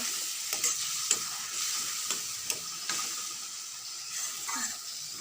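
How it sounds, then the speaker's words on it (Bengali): Spice paste for mutton curry fries and is stirred in a pan, a steady close sizzle with scraping strokes of the spoon at an uneven rhythm, with no talking. "দেখো ভালো করে মশলাটাকে এবার একটু কষে নেব"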